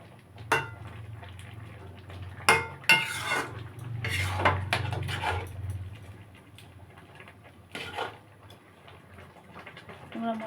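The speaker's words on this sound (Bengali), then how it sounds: "নেড়ে ছেড়ে দেবো মশলাটা যাতে ভালোভাবে তরকারির সঙ্গে মিশে যায়" Spices being stirred into a vegetable curry of dal-shukto in a pan: scattered clinks and scrapes of a utensil against the pot, some louder bursts, with a low steady hum beneath and a voice talking at times.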